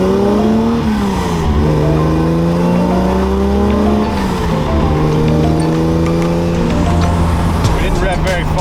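A car engine revs up and down after an ignition tune-up, with steady harmonic engine tones rising and falling across several revs, loud and close throughout.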